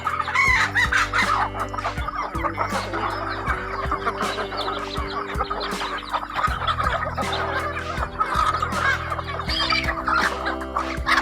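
Chickens cluck continuously while roosters crow repeatedly in long drawn calls, a busy farmyard chorus over a steady low hum.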